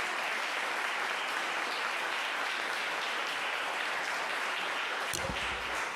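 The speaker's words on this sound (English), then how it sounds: "Let's give them all a big round of applause." Applause at a city council meeting, a steady wash of many hands clapping throughout, fairly distant and even, with a brief clatter near the end.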